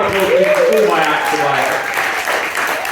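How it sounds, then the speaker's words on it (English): Live audience applause and cheering at a spoken-word night in Ramsgate, a dense, steady wash of clapping that holds loud for the whole stretch, with a voice and crowd noise mixed in over it. "Can I get another big round of applause for all my acts"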